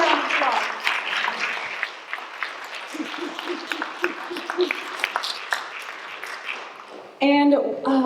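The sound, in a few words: audience applause for speakers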